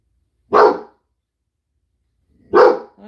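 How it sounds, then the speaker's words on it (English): A dog barks twice, loud and close, with a second of silence between the sharp barks. "We don't need to be barking the whole time. Nobody wants to hear you bark."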